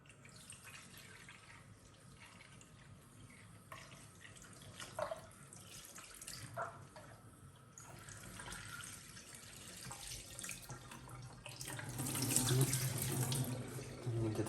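Water runs from a tap at low level while washing machine parts from a Miele W1 are rinsed, with scattered splashes and clatter that build louder toward the end.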